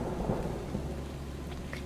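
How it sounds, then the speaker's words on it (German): Thunder from a thunderstorm: a low, steady rumble rolling on without a break for about two seconds, with a soft rain-like hiss above it and no voices. "Das war Gewitter."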